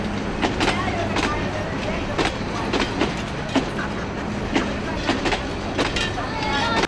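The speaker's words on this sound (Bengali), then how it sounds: "মোহনগঞ্জ এক্সপ্রেস চলে যাচ্ছে।" The Mohanganj Express pulls away from a station, wheels clacking in a steady rhythm of sharp rail clicks over a continuous rumble, close and fairly loud, with voices talking faintly beneath.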